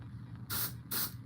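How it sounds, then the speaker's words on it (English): Two short, loud bursts of blue spray paint hiss from an aerosol can onto an RC drift car body, separated by a brief pause, against a quiet room. "Got the blue coming out, nice even spray."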